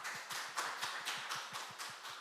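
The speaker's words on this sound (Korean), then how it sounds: "박수 부탁드립니다." Faint applause rises from the audience at a corporate technology conference as a presenter is welcomed to the stage, a soft, slightly rhythmic patter of clapping heard at a distance with no voices.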